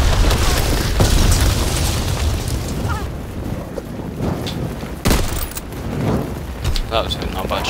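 Gunfire from an Austen submachine gun in a WWII video game, heavy booming shots and bursts at close range, loud and repeated over a dense battle background, with people talking.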